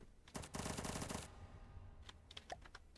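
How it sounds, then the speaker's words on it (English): A .50 caliber tail-mounted turret on a bomber in From The Depths fires a loud, rapid burst of machine-gun shots, then a few sparser, quieter shots follow after a pause. "yeah, it sprays bullets."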